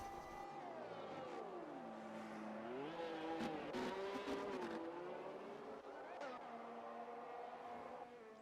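An engine whines through a racing video game as a Ferrari Formula 1 car rolls down pit lane, its pitch sweeping down and back up in a steady, muted drone, with faint sharp ticks over the engine.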